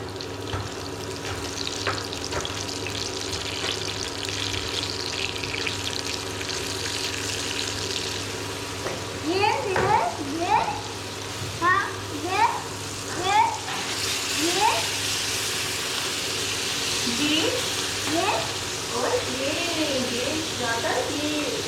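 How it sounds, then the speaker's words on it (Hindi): Onion, tomato and saag greens fry in a home kitchen pan, giving a soft, steady sizzle and hiss that grows louder in the second half. Voices talk over the cooking. "अब साग का पानी भी खुश्क हो जाएगा साथ ही, तो फ्राई भी हो जाएगा।"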